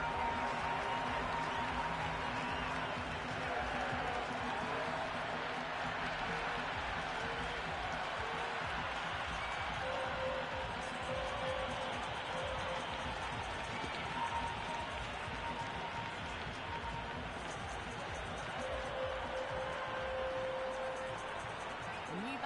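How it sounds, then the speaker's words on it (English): A cricket stadium crowd roars and claps after a hat-trick wicket in a T20 match between India and South Africa, a steady, distant wall of cheering with scattered whistles under a commentator's voice. "That's a hat-trick and the crowd going wild."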